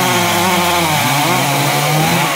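A chainsaw roars loudly and continuously up close, its engine pitch shifting slightly as it bites into a branch of an Indian almond (xà cừ) tree.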